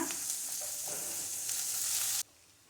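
Onions or masala sizzle steadily in a pan for Tamil-style mutton kulambu, a loud continuous hiss with light scraping, cutting off abruptly near the end.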